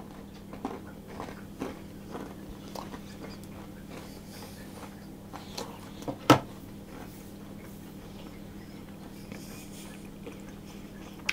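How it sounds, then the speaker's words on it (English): Crisp Perkins Scottish biscuit being bitten and chewed, soft close crunches repeating at a slow chewing rhythm, with one sharper snap partway through and otherwise quiet surroundings. "they do have that nice crispy, crunchy texture, with just a little bit of chew in the centre"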